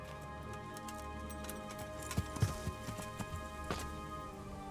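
A horse's hooves clop faintly and unevenly in a steady game-like ambience in Kingdom Come: Deliverance, a few soft hoofbeats rising briefly above a low hum.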